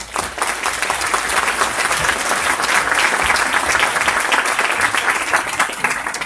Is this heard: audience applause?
yes